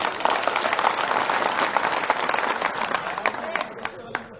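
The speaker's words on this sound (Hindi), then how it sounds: "कविता के नशे में अगर आप डूब गए हो तो थोड़ा सा मुझे ताली बजा के बता दें।" An audience claps at a Hindi comic poetry recital, a dense, lively burst of applause that thins toward the end into scattered individual claps, with faint crowd noise mixed in.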